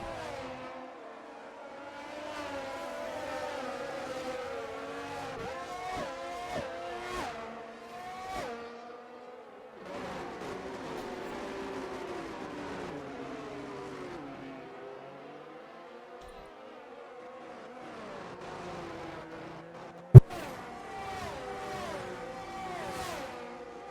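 Formula 1 race cars at the Japan Grand Prix in a racing video game, whining engines rising and falling through gear changes as the cars pass, a sharp knock near the end, with no talk.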